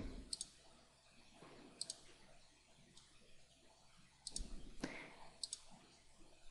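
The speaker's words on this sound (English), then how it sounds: "So we'll go ahead and click on each one." Computer mouse clicks while tagging small structures in image-analysis software, a handful of sharp isolated clicks spaced irregularly over a low background hum, close to the microphone.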